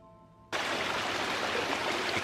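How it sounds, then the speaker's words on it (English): Loud running water in the video game Tormented Souls bursts in suddenly after a quiet moment, then continues as a steady, close, rushing roar. "Extremely loud water, good lord."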